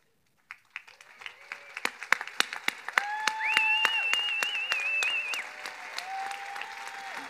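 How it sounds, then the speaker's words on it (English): An audience at a civic reform summit's closing plenary applauds staff members, starting with scattered sharp claps that build into steady applause, with cheering and whoops over the clapping. "so we can give you the applause that you deserve"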